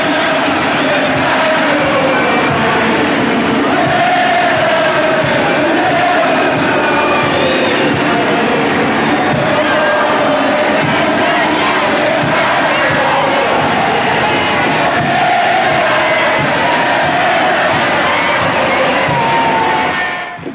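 Large crowd cheering a warship returning home from the Falklands War, a broad sustained roar of many voices, loud and continuous with no break.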